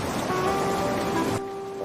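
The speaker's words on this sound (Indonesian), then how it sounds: "Mana hujannya deras banget lagi." Heavy rain in an animated school scene, a dense, steady, loud hiss of downpour with faint tonal hum underneath, dropping away suddenly near the end.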